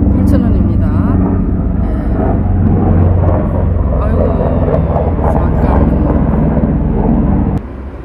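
An airplane passes overhead beside a stadium in Seoul, giving a loud, steady low rumble that fills the whole clip and drops off abruptly near the end, with an outdoor plant market around it.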